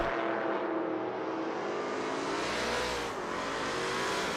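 Kmart race car circling the track in a racing simulator, one steady loud engine drone that dips briefly as the driver brakes, then holds again, with no talk.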